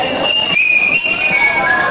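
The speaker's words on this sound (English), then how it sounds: "So the queen took a deep breath and started whistling." A steady, high-pitched whistled tune with sustained notes, heard clearly over a faint background murmur.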